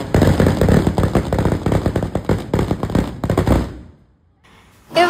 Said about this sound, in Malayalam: ഇവിടുത്തെ ഒരു മെയിൻ വഴിപാടാണ് വെടിവഴിപാട്